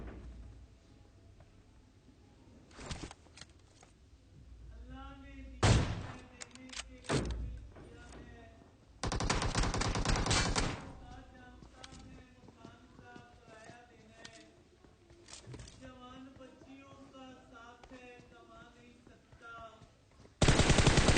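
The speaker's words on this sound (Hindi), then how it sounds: "जाहिद भैया हमारे पाकिस्तानी थे, तो यहाँ पे हमने इनके पिछवाड़े में गोलियां मारी" Bursts of automatic gunfire in a battle royale video game crackle in short loud volleys between quieter stretches, with game footstep and ambient sounds and someone talking throughout.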